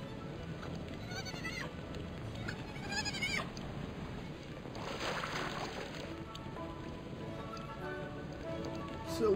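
Sheep bleats from the video game Palworld, several short wavering cries at moderate level over a busy game soundscape with water, coming in bursts through the clip.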